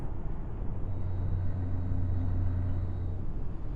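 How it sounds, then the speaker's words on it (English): A truck in Euro Truck Simulator 2 rolling over a rumble strip, a steady loud low drone with a buzzing tonal hum that holds for a couple of seconds over continuous road noise. "you've got the normal rumble strip that you guys can probably hear there"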